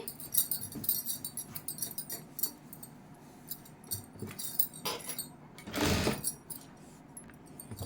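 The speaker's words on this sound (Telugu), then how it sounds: "ఈ లైనింగ్ అనేది ఇట్లా ఇటు సైడ్ పోయేలాగా కుట్ట అనేది వేస్తున్నాను" Sewing machine running a stitch along the lining of a round-neck blouse, a faint mechanical whir in short runs with one louder burst near the end, no talking.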